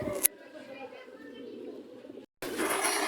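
Teddy pigeons coo softly at a busy outdoor pigeon market, a low murmuring call over steady crowd chatter, broken by a brief gap before the noise resumes.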